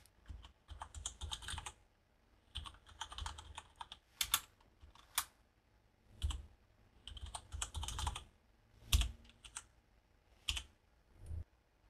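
Code being typed on a computer keyboard while writing a PHP constant in a config file, with bursts of quick, close key clicks separated by brief pauses and sharper single keystrokes.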